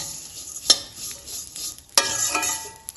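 Vermicelli and raisins frying in ghee, a bright hissing sizzle with sharp spatula clacks against the pan at irregular intervals, no voices.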